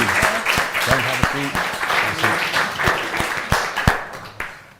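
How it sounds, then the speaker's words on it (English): An audience claps loudly in sustained applause, with voices talking over it before it tapers off. "Round of applause"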